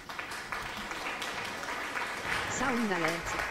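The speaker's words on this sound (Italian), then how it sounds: "Da logistica 1 ha suonato applausi per 0 bits" A canned applause sound alert triggered on an Italian live stream: a steady broadband wash of clapping and cheering that swells toward the end, with someone talking over it.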